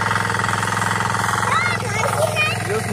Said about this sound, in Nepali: दाइ त्यहाँ हेर्न सक्नुहुन्छ ट्र्याक्टर जोताइ